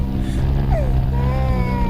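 A motorboat engine drones low and steady, close and continuous, with a brief higher whine sweeping through partway.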